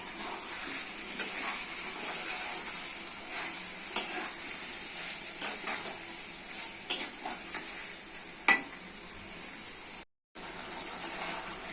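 Fried potatoes and chicken pieces being stirred in a hot pan, with a steady oily sizzle and several sharp scraping clinks of the utensil, loud and close, with no talk.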